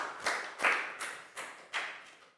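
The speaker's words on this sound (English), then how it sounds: "High five and a big round of applause for Down," A few children clap in a classroom, giving a short, uneven run of about five separate claps spaced a little apart, close and fairly soft with no talking.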